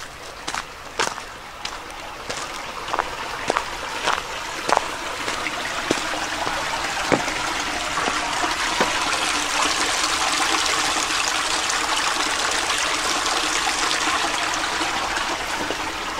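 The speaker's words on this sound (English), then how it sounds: "here's that stream between the hill and Cove Mountain" A stream runs between a hill and Cove Mountain on the Appalachian Trail in Pennsylvania, its steady rushing water filling the air while a few footsteps crunch close by early on.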